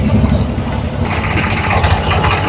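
A boat's engine idles at a local port in Dubai, a steady close, low rumble that holds evenly for a few seconds with no voices over it.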